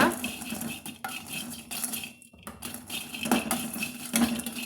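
Roasted chilli spices get tipped into a vessel, with close clattering scrapes and clinks of a metal pan and spoon in irregular bursts and a short quiet pause midway.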